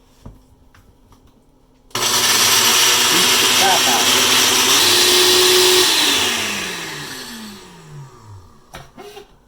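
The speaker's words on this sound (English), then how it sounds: "we take it over to our blender" A blender switches on abruptly, whirs loudly for several seconds blending red sauce ingredients, then winds down as its pitch drops, with quiet surroundings before and after.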